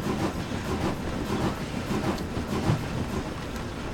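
A Caledonian Railway Class 903 Cardean steam locomotive, in a train simulator, rolls along with power shut off, giving a continuous rumbling clatter of wheels over rail joints, fairly loud and steady.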